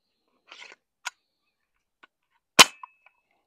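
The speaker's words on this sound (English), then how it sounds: "Shooting BBs out." A Crosman PSM45 spring pistol fires BBs: a faint click and small pops, then one sharp loud snap of the shot followed by a brief ringing metallic ping and a couple of light ticks, with silence between.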